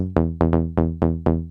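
A punchy Serum synth bass with an EQ bell-curve boost plays a quick run of plucked, decaying notes in a tight rhythm, bright and buzzy, with no voices.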